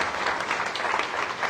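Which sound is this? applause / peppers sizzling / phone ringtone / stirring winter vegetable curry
applause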